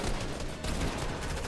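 Steady, dense Fortnite video game gunfire crackles continuously at a moderate distance, a busy fusillade with no talking over it.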